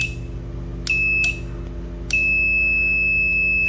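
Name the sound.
multimeter beep while testing a 12V relay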